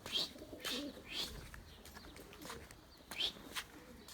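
A pigeon or dove coos softly several times at a distance, with gentle repeated calls and a faint chirp in a quiet room.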